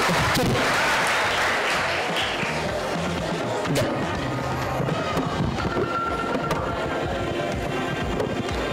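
An audience claps at a Khel Paithanicha game event held at a temple. Dense, steady applause fills the whole stretch, loud and close, without easing off.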